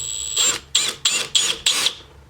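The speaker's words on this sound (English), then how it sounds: "So, got a 3mm drill." A drill with a 3mm bit bores into a broken bolt in short bursts, five whirring pulses of a high-pitched motor whine, close and distinct, separated by brief pauses.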